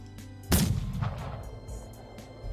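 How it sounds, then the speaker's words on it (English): A single sharp, loud video game gunshot in Seduce Me cracks out and rings with a short rumbling tail, set against a quiet background. "That was a gunshot."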